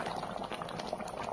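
Andhra-style kora fish curry bubbling steadily in a pot, a dense, continuous simmering burble with small popping bubbles throughout, close and moderately loud, no voices.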